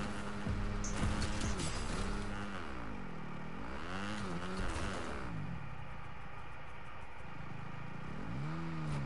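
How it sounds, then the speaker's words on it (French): A motorcycle engine in the video game Fortnite, revving up and down in repeated swoops under a constant loud game soundscape, no talk. "ça fait entendre les bruits de la moto de Fortnite"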